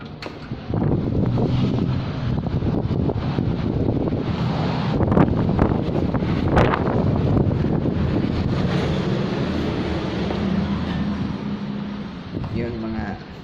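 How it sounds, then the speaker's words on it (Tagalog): Strong outdoor wind roars steadily across the microphone, a continuous buffeting rush with gusty surges and a voice faintly audible underneath. "Hangin ngayon."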